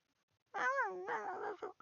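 A pet cat gives a single close, clear meow, rising and then falling over about a second, in an otherwise quiet room.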